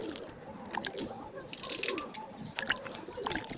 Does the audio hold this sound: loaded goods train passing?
no